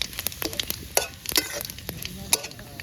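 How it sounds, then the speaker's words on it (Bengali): Cumin seeds, dried chilli and bay leaf sizzling in hot oil, a soft continuous crackle with sharp pops and scraping stirring strokes, fairly quiet and close. "এটা রান্না করছি, তার জন্য আমরা গরম তেলে জিরে ফোড়ন দেবো।"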